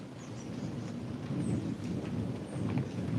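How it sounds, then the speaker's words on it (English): A thunderstorm rumbles with low rolling thunder beneath a steady wash of falling rain, loud and continuous with no voices. "The storm is here, baby. You hear that?"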